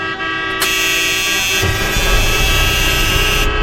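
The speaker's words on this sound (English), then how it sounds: "You hear all those horns and trucks coming" Trucks and cars honking in traffic, a loud sustained blare of horns layered over engine rumble, with a second horn joining partway through.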